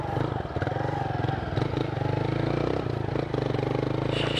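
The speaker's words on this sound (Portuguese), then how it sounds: "Olha o escapamento aí, ó. É o cromo forte. Tá até tremendo, mano. É um dug-dug-dug-dug." A Fan 150 motorcycle with a Cromo Forte exhaust runs close by, its engine idling in a steady, rhythmic low thumping pulse that continues throughout without clear revving.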